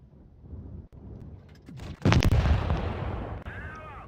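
A tank gun fires in World of Tanks Blitz: after quieter engine rumble and a brief sharp click, a single loud, booming cannon shot hits at about two seconds, with a long rumbling decay and a metallic reload chime afterward.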